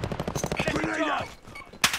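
Rapid automatic gunfire crackles in Call of Duty Modern Warfare's Plunder Duos mode, a dense burst of close shots that fades into a whooshing sweep, then one sharp blast.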